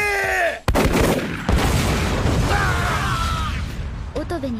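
Anime battle scene with gunfire from Meiji-era new government troops landing in Ezo in 1869: a dense, loud burst of firing and blasts follows a sharp cutoff, then rumbling continues under a voice.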